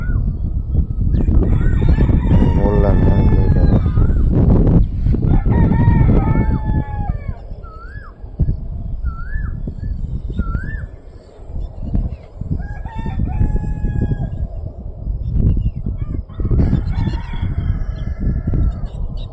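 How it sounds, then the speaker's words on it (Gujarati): Loud, repeated peacock calls ring out in short rising wails, several peacocks answering one another over steady outdoor background noise on a farm. "મોર આવી ગયા છે ઘણા બધા"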